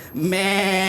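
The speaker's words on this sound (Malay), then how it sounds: "Ini kambing, cikgu." A goat bleats once, a loud, wavering, nasal call held for nearly a second with a short rise at the start, close and clear with nothing else over it.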